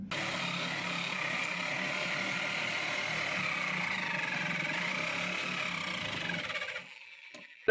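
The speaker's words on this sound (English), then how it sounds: "let's see if we can use the power snips" Power snips chewing through thick, rust-eaten floor pan steel on a van damaged by road salt, a steady loud mechanical grinding buzz lasting several seconds before cutting off abruptly near the end.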